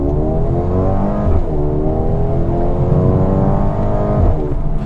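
Mercedes GLB35 AMG compact SUV, roughly 3,900 pounds, pulling hard on a back road, its engine note sweeping up through the gears in a continuous loud drone with slight crackly burble at each shift.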